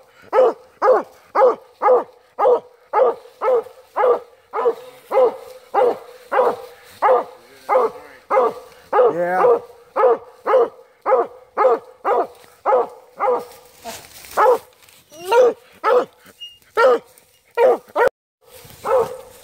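A Walker hunting dog barks at a treed raccoon at night, loud rhythmic bawls repeating about once a second for the whole stretch, close by.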